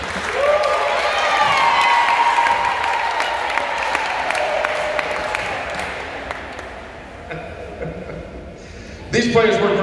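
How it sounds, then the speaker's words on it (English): An audience in a high school gym claps for volleyball senior night, a broad wash of applause and crowd noise that fades out while a voice talks over it on a loudspeaker. "Anytime, I'll just clap, go ahead."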